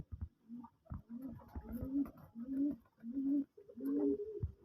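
Pet pigeons cooing at home after feeding, a series of soft, low, rhythmic coos repeating close by in a quiet room, with no talk over them.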